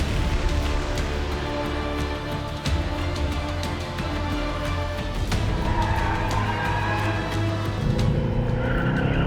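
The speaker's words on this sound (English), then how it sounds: "It's still that fabulous 4-litre V8 bi-turbo." A Mercedes-AMG GT 4-door with its 4-litre twin-turbo V8 drives hard, the engine roaring loudly and steadily throughout with tire squeal and skidding on the track, no voices present.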